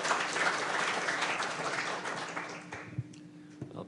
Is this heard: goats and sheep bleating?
no